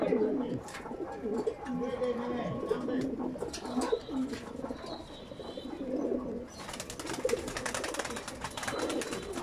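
Close pigeon cooing murmurs in low, repeated phrases, with a few higher chirps and some rustling noise later.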